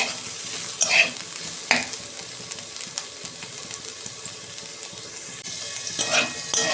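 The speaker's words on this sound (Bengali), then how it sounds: "দেখুন বন্ধুরা, লাউয়ের খোসা ভাজা হয়ে এসেছে।" Bottle gourd peels fry in a pan with a steady close sizzle, broken by a few sharp scrapes and clinks of a spatula stirring against the metal, no voices.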